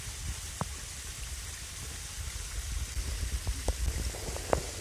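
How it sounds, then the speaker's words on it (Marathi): Heavy rain pours steadily during a monsoon trek at Sinhagad fort, a dense, even hiss with scattered sharper drops and taps, fairly faint throughout. "आता परत पाऊस पडायला लागला. भरपूर पाऊस आहे इथे"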